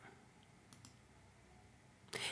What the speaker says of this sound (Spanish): Hago clic en generar